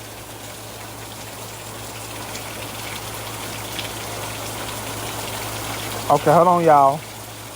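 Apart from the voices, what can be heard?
rain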